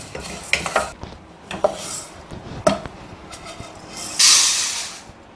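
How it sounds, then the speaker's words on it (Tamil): Spices being dry-roasted in a pan for rasam powder, stirred with repeated scraping clinks of a metal spoon, ending in a brief louder rush of rattling spices. "இப்போ பாருங்கள், நல்லா செவக்க வறுத்தாச்சுங்க."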